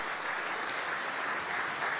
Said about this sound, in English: let's keep giving them a round of applause as they come up